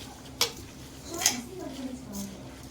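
A spoon stirring sugar into grated mango chhundo in a pot at home, with soft scraping and a couple of faint clinks against the metal, quiet and intermittent.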